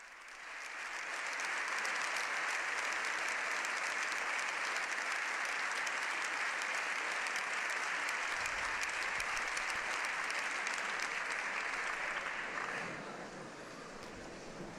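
Both chambers of the Spanish Parliament in Madrid stand and give the Pope a long ovation. Sustained, even applause from a large crowd rolls on unbroken for many seconds before easing slightly, heard from a distance.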